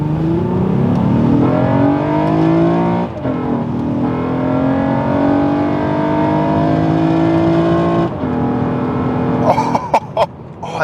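Honda Legend KB1 V6 engine accelerating hard through the gears with VTEC, a loud rising engine note that climbs, drops at each shift and climbs again, heard from inside the car.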